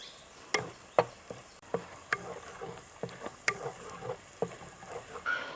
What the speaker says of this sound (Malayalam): ഇനി ഇതിൽ നമുക്ക് കരിയാപ്പില ഇടാം കേട്ടോ